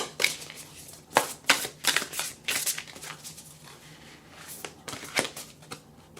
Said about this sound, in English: Let's shuffle, shuffle, shuffle.